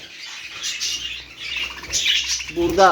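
Budgerigars chirp and twitter in a breeding aviary, a steady bright chatter of several birds close by, with a brief voice speaking near the end.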